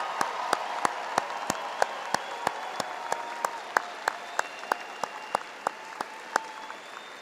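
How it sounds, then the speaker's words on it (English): An audience at a university arts and sciences spring commencement applauds new graduates, a sustained wash of clapping heard from a distance with a few sharper, regularly spaced claps standing out above the crowd. "Let's give one more big round of applause for our newest alumni"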